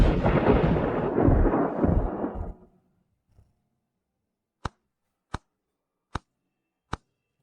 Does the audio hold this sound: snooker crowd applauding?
no